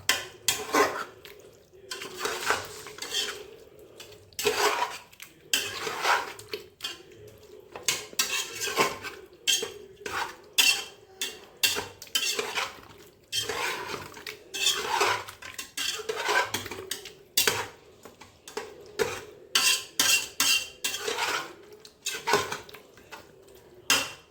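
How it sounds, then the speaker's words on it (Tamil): Curd being stirred into a chicken biryani mixture in a pot, with a steady run of close metallic scrapes and clinks from a spoon against the vessel and no voices. "அப்புறம் தயிர் 100 ml. இப்படி நல்லா மிக்ஸ் பண்ணிக்கலாம்."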